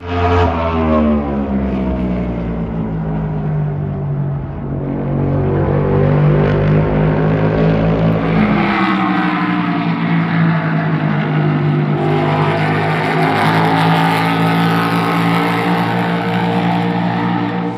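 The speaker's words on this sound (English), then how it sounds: "Take a listen to the difference of these two cars, first one using a muffler, the second one without a muffler." Two NASCAR race car engines rev loudly in turn, the first fitted with a muffler, a smoother muffled drone, the second without one, a harsher, rasping roar that continues strongly to the end.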